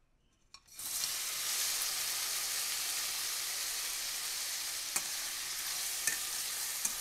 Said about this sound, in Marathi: कढईत 1 मोठा चमचा तेल गरम करूया. त्यात अर्धा किलो कट केलेले टोमॅटो घालूया.